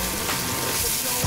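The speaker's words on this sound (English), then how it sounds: "We're just gonna lightly cook these onions" Onions lightly cooking in sesame oil for a fish chowder, a brief, close, steady sizzle with a faint stir.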